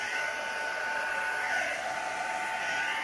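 Hair dryer held up high, blowing steadily to dry alcohol inks on a canvas, a continuous airy whir at constant loudness throughout with no talk.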